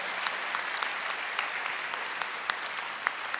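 A church congregation claps together in steady, fairly faint applause with scattered sharper claps, lasting a few seconds without talk.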